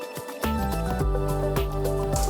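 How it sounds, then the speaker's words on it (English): A synth riser in an electronic track grows steadily louder and brighter as it sweeps open and pans from left to right, with dense sustained tones and repeated transient hits running under it. "Yeah, very effective riser,"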